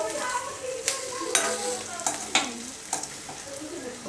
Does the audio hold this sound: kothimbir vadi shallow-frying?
yes